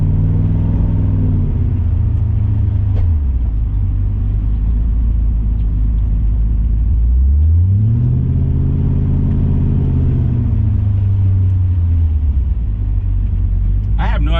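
Supercharged Coyote V8 swap car under way in third gear, a loud steady engine drone that falls and climbs again in pitch as the revs change, heard from inside the cabin.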